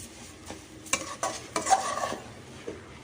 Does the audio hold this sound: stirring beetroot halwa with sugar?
yes